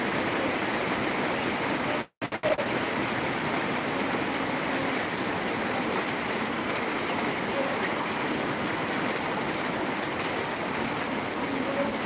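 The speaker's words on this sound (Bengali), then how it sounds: "বৃষ্টি শুরু হয়ে গেছে" Constant rain patters in a steady hiss, broken briefly by a short dropout near the start.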